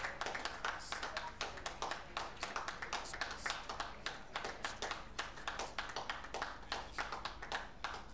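Steady applause from a show crowd at the Royal Norfolk Show grand ring after a parade of Shire horses, dense rapid clapping heard from a distance, continuous and even throughout without voices.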